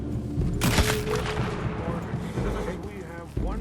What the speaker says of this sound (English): Can we have one day without gunfire?